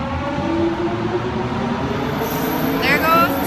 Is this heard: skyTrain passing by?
yes